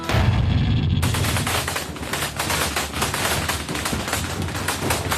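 Rapid bursts of automatic gunfire crackle continuously and loudly on the front line of the war in Ukraine, a dense rattling volley with no voices.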